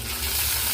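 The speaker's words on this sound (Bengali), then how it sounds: "আলুটার সাথে পেঁপেগুলো ভেজে নেব।" Potatoes and papaya frying in hot oil give off a steady, close hiss that stays even and unbroken for a brief moment.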